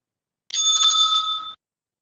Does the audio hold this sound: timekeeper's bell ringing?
yes